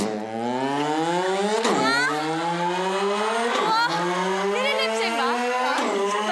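A man vocally imitates revving car engines on a talent show stage, his voice rising and falling in pitch like accelerating and shifting gears, three or four sweeping rev cycles in a row.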